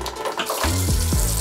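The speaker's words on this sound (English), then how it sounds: "that coming out there is all the water out of the hot pipes, draining out the system" Water drains out of the hot pipes of a domestic plumbing system during a vanity unit basin fitting, a short close gush and splash of flowing water with a gurgling tonal rumble underneath.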